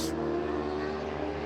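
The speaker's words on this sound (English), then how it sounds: "this is what a stock Street Fighter V4 sounds like" A stock Ducati Streetfighter V4 motorcycle engine idles steadily with a low, throbbing rumble, close and constant for a brief moment.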